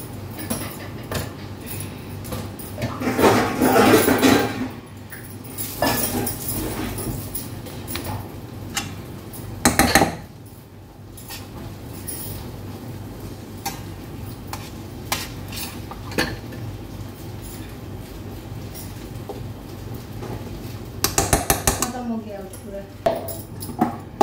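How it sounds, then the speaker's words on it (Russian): Pancake batter ingredients being mixed in a bowl, with utensil clinks and scraping against the dish, louder bursts near the start and end, and quiet stirring in between. "Вначале я смешаю ингредиенты."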